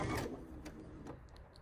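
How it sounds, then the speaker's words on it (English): A sewing machine stitches a quilt binding in a brief, quiet burst of rapid mechanical whirring and ticking. "And once I start sewing"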